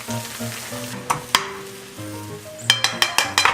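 Vegetables tossed into a pan of rice being stir-fried, with steady sizzling and frying broken by sharp clinks and scrapes of a utensil against the pan, close and fairly loud.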